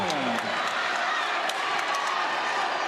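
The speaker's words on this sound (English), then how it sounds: "Calvin crowd making a lot of noise on the Calvin side" A loud, vocal Calvin crowd cheering and roaring in the DeVos Fieldhouse at an NCAA Division III volleyball tournament match against Hope, a dense wash of crowd noise that holds steady throughout with a few sharp shouts popping through.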